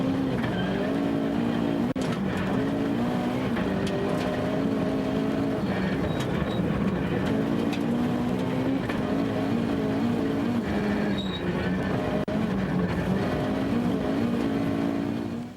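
A Toyota Starlet rally car races at a Finnish winter rally, its engine roaring loud and close throughout, revs climbing and dropping in repeated gear-change surges with no voices over it.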